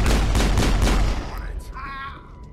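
Gunfire in the Mass Effect video game comes as a rapid burst of loud, repeated shots, then cuts off, leaving a brief ringing electronic tone.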